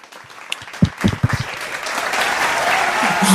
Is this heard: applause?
yes